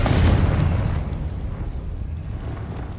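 A Confringo fire spell explodes in Hogwarts Legacy: a loud, deep boom bursts right at the start, then rumbles and slowly fades into a low, lingering roar over a few seconds.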